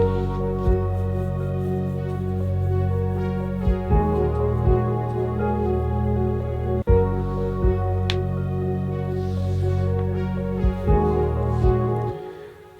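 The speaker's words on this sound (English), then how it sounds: "they add those orchestral instruments in, and it all sounds like this." An ambient song swells with orchestral horns and strings over a dense, sustained harmonic bed, with occasional low thumps and bright accents, fading toward the end, no talking.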